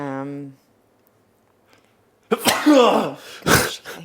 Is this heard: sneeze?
yes